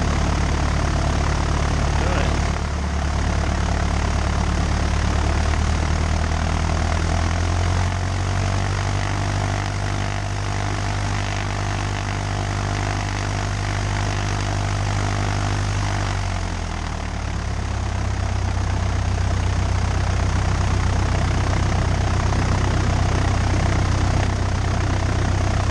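A Cessna's propeller engine runs steadily at idle while the plane holds short of runway 36 at Mesquite airport, a loud continuous drone with a brief dip in pitch partway through and no talk over it.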